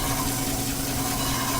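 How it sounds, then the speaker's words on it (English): A crankshaft grinding machine runs close and loud, its wheel hitting the side of a crank journal: a continuous rough whirring drone with a gritty, vibrating edge. "Now that noise you hear there, if you can see it, it's hitting on the side of the crank journal."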